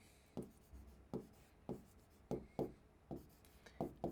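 Pen writing on paper or a board during a maths lesson, a run of about eight crisp, evenly spaced stroke scratches, close and quiet with no talk.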